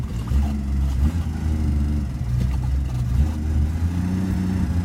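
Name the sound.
carbureted engine idling with hesitation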